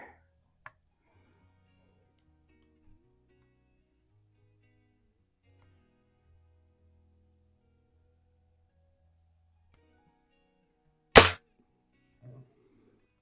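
A single sharp crack of a vintage Daisy 499B BB gun firing at a target, loud and close, standing alone in near silence, followed by a faint tap at the target.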